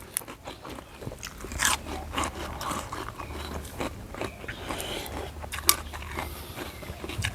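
Crisp, crunchy bites into Korean soy-marinated shrimp eaten with a spicy pla-ra seafood dipping sauce: several sharp, close crunches spread through the stretch over a low, steady background hum.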